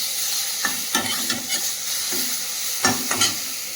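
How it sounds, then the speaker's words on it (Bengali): Prawns with spice paste frying in a pan, a steady sizzle broken by several sharp scraping stirs of a spatula in irregular bursts, close and fairly loud with no talking. "চিংড়ি মাছ দিয়ে মশলাটা ভালো করে ভেজে নিয়েছি"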